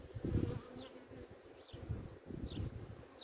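Honeybees buzz steadily around an open beehive during a spring hive inspection, a close, continuous insect drone with swells and fades as bees fly past, no voices.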